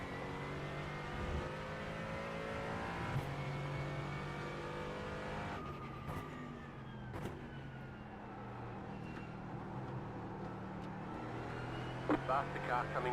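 A Mercedes AMG GT4 race car in iRacing at Daytona holds a loud, steady engine drone that rises and falls through gear changes. A brief whoosh marks another car going by.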